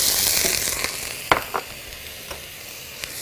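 Grated onion hits a spoonful of hot oil in a pan, giving a steady broad sizzle with a few sharp crackles and pops, close and fairly loud, no voices.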